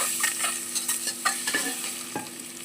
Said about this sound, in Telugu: ఉప్పు కారం పట్టేలాగా కొంచెం సిమ్లోనే ఫ్రై చేసుకోవాలి